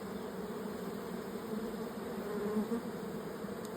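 Honeybees buzzing during a hive inspection, a soft continuous drone from the open colony that holds steady and close, with no talk over it.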